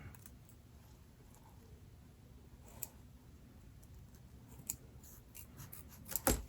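Faint, quiet snipping of scissors cutting out a fabric in-the-hoop zipper bag, with scattered small clicks growing a little louder toward the end.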